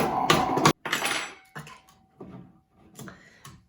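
Opening a jar of coconut oil: a few sharp clicks and scraping twists of the lid, close and fairly quiet, coming in short separated bursts with pauses between.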